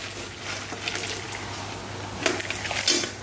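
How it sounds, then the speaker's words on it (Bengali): Freshly boiled water is poured into a cooking pot of fried spiced meat, making a soft, steady rush of liquid close by that swells slightly toward the end. "এখন এই যে ফুটানো পানি,"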